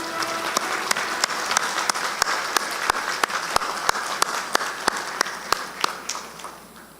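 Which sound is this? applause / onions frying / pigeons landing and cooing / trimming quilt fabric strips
applause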